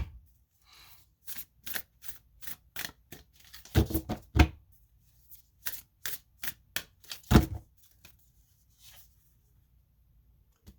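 Oracle cards shuffled and handled close up during a reading, a quick run of crisp riffling slaps and taps with brief pauses, including a couple of heavier bursts midway.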